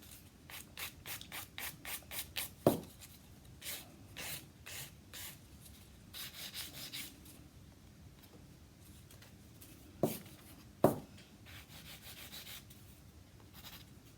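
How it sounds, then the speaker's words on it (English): A nail file works over an acrylic nail in quick rhythmic scraping strokes, close and fairly soft, with short pauses between bursts and a couple of sharper taps. "So the reason you always file up towards your apex is it keeps the height of your apex"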